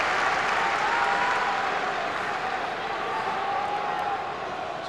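Hearts supporters in the Broomloan stand of a football stadium cheering and applauding, a broad, steady roar of crowd noise that holds loud throughout and tapers slightly toward the end.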